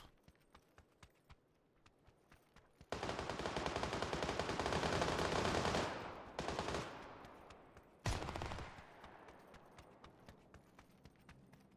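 Rapid FAMAS rifle fire in a console shooter game, loud sustained bursts of about three seconds, then shorter bursts after brief pauses, with quiet footsteps in between.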